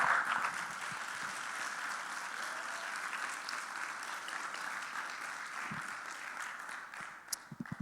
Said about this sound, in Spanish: Entonces denle un fuerte aplauso a su Señor